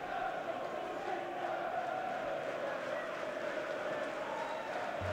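A home football crowd at an Oxford United match against Swansea City boos a player. The low, drawn-out jeer spreads across the stadium as a constant, fairly distant wash of voices.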